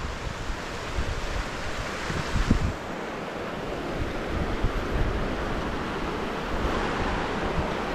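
A broad, steady rush of a flowing mountain river fills the scene, a constant noisy wash with small bursts and some wind buffeting.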